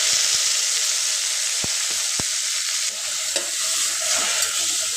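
Chopped spinach goes into a hot garlic tempering and is stirred, producing a loud continuous sizzle with a few metallic spoon clinks early on.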